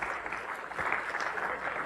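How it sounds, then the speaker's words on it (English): Audience applause at a Linux embedded conference talk, a dense, steady wash of clapping from a seated crowd lasting about two seconds, moderately quiet and without speech. "give a big round of applause for Maxime Ripard over there"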